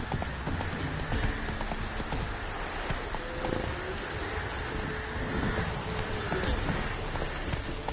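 Roach the horse galloping in The Witcher 3, rapid rhythmic hoof clip-clops throughout with a rain-like hiss and soft game ambience behind, steady and moderately close, no talking.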